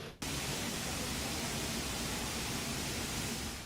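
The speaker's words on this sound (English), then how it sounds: "That's the sound of water rushing into the city's subway stations." Floodwater rushes into New York City subway stations after heavy storm rain, a loud, unbroken roar that starts abruptly after a short pause and holds steady to the end.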